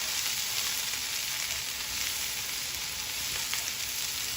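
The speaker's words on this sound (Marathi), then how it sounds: "यामध्ये आपण मीठ घालूया। व्यवस्थित परतून घ्यायचं आहे।" Okra sizzles steadily while being stir-fried in a hot pan with salt, a continuous loud crackling hiss with no voices.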